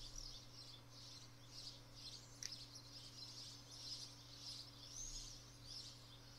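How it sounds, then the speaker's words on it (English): Seagulls calling in the video game Iconoclasts, faint repeated high cries over a steady low hum. "there are seagulls"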